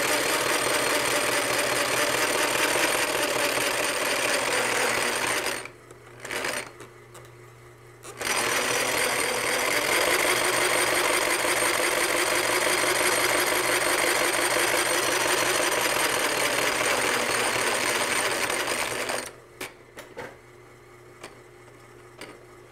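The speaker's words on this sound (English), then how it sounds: "It's supposed to be maxed out about 800 stitches a minute" A harness-shop sewing machine stitches leather traces in a steady, loud mechanical chatter, briefly stopping twice before falling quiet near the end.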